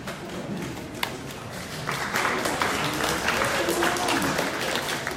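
An audience at an event claps for a prize winner. The clapping is scattered at first and swells into a sustained round of applause, with a sharp tap near the start and voices talking underneath.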